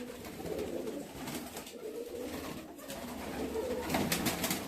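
Pigeons coo in a large loft in Akola, Maharashtra, several soft, throaty calls overlapping close by against a busy background of other birds.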